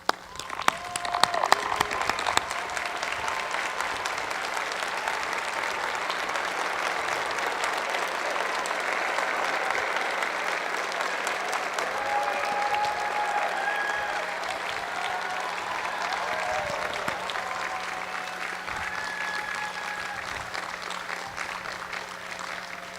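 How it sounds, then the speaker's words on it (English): Graduates at a graduate school commencement ceremony stand and applaud their families and friends: a large hall fills with sustained, distant-sounding applause from many hands, swelling slightly in the middle and continuing at a steady level, with faint crowd murmur underneath. "Graduates, let's stand and applaud your families and friends."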